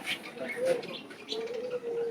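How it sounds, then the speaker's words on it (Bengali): A pigeon coos at a garden estate among caged birds, two soft low drawn-out coos close by, with people talking nearby. "এটার কোনো নাম নাই, এটি কবুতর"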